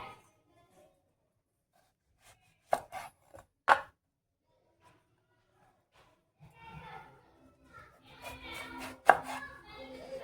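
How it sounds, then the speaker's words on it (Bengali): Knife strikes through an eggplant on a cutting board, a few sharp isolated chops followed by a quicker burst of cutting, close and fairly loud against an otherwise quiet room. "প্রথমে আমি বেগুনটা কেটে নেবো"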